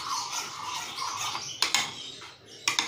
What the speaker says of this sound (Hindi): अब हम इसको अच्छी तरह से मिक्स कर लेंगे।